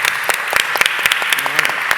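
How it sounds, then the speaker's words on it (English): Steady applause from a crowd, dense clapping throughout with a few sharper claps standing out, fairly close. "Round of applause."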